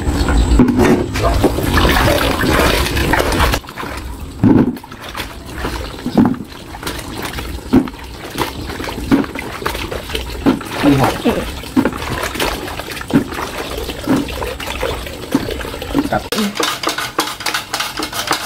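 Peeled saba bananas are washed in water, with sloshing and trickling mixed into repeated clinks and clatters of bowls and utensils close by, while a voice talks over it.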